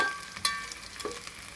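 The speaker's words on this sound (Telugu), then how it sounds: "ఇలా ఆనియన్ రెడ్గా దూరగా కాల్చుకున్నానండి" Onions and green chillies fry in a pan with a soft, steady sizzle and faint crackle, close by and fairly quiet, with a couple of light stirring clinks in between.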